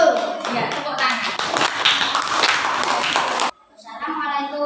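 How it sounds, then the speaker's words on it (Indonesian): Children clapping their hands together in a classroom, a dense burst of claps with voices mixed in, stopping abruptly near the end as a few voices carry on. "Ya, tepuk tangan."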